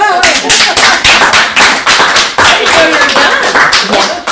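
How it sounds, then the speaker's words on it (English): Close hand clapping in a talk-show setting, a quick and fairly even series of sharp, loud claps that runs for about four seconds. "I mean, I think that deserves applause"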